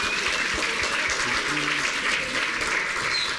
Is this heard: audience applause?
yes